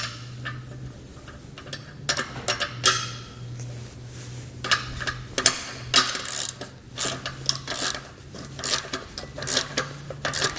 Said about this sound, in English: You're going to come back and the ratchet and wrench and tighten it down.